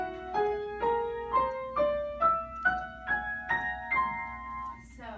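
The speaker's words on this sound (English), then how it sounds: "Debussy was very clever, and he created the whole tone scale," Debussy's whole-tone scale played as clean, bright single notes climbing steadily one step at a time, about nine evenly spaced tones, each ringing briefly, heard alone at moderate volume.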